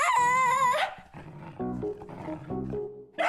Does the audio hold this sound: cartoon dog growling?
yes